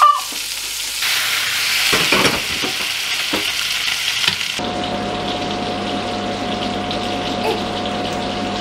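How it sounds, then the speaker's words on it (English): Homemade meatballs sizzling in a frying pan in a home kitchen, a steady hiss with some clatter and stirring early on, then a constant frying sizzle under a faint hum. "I've obviously got a batch frying here"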